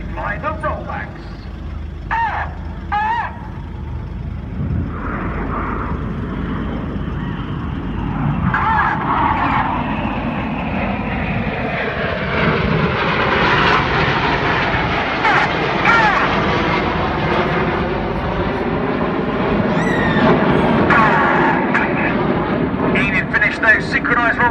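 Red Arrows jets roar overhead during a flying display of synchronised rollbacks at the Sunderland Air Show, a loud sustained engine rush that swells and shifts in pitch as the formation passes, with a commentator talking throughout.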